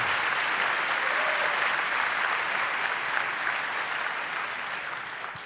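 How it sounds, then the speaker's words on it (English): Applause from a conference audience welcoming two speakers onto the stage, dense and steady, fading slightly toward the end. "Please welcome, with a warm applause"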